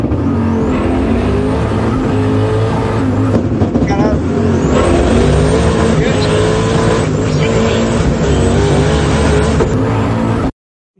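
A race car with a 351 Windsor V8 and a stick shift pulls away on a drag strip, the engine revving hard and loud close by with rising tones through the run before cutting off abruptly.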